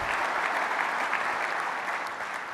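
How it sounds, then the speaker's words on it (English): A conference audience applauds at Calix's ConneXions event in a short, dense burst of clapping. It holds steady and fairly loud throughout. "Let's give them a big round of applause and huge thanks for everything they're doing with us."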